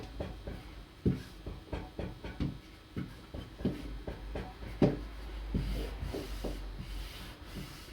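Fondant is rolled out on a silicone baking mat, producing soft rhythmic rubbing and rolling strokes with light thumps, close and fairly quiet, repeating steadily.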